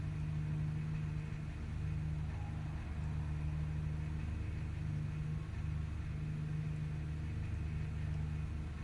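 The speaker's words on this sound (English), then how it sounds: "As you can hear that gentle rumble there of the V12 engine of that Aston Martin." The V12 engine of an Aston Martin in Gran Turismo Sport makes a low, steady, gentle rumble, a continuous droning hum at moderate distance with no speech over it.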